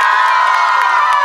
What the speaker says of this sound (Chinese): 如果期待的话，请给我一点掌声跟尖叫声